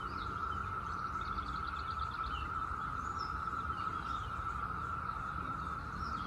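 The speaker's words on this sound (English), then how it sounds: "That is the sound of Brood X, the cicadas that come out every 17 years." Brood X periodical cicadas drone in one steady, unbroken high-pitched whine, faint and distant, with occasional soft chirps over it.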